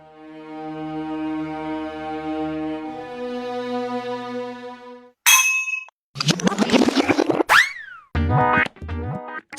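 A metal milk vessel clangs and rings as it falls along with a person, with a sustained tonal sound giving way to sharp bangs, clatters and a boing-like ring, loud and close.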